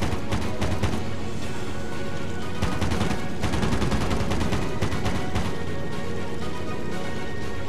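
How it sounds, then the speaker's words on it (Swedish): Rapid bursts of aircraft machine-gun fire from a plane in World of Warplanes, loud and continuous, with dense crackling volleys packed close together and no pauses. "men skotten går ju rakt fram även om siktet är på planet, Joakim."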